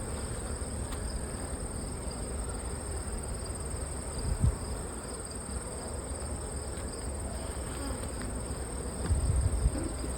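Honey bees buzzing around an open hive during a frame inspection of capped brood, a steady close insect drone with occasional louder passes near the listener.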